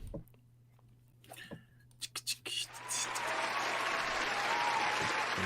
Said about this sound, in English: They out here clapping and everything for you.